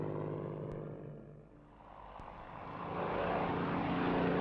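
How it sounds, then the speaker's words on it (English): A Spitfire's Merlin piston engine drones steadily, the roar fading slightly then swelling louder and closer as the fighter aircraft approaches. "it still turns heads and raises emotions with its classic lines and the full-throated roar of its Merlin engine."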